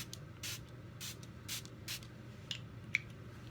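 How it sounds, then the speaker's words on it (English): Several short hissing bursts of Smashbox Photo Finish Primer Water face mist spray in quick succession, about a half second apart, close and soft in a quiet room. "I'm going to take my Smashbox Photo Finish Primer Water and spray my face"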